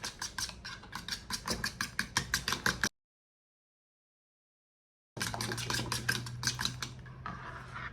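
Spoon or whisk scraping and tapping against a bowl in quick repeated strokes while nutmeg and cinnamon are stirred into a bread pudding mixture made from leftover donuts, close and fairly quiet, with a gap of silence midway.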